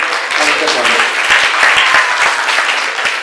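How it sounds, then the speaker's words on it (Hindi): Dense, sustained applause fills an Independence Day celebration hall, a loud steady wash of many hands clapping together with crowd noise mixed in. "तो ढेर सारी तालियों के साथ"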